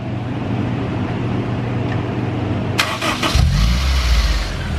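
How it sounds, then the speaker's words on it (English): A Honda S2000 engine cranks and fires up, followed by a rough, low grinding drag of the starter as it settles into idle, loud and close. "So that dragging sound right after startup, That's the noise we're talking about."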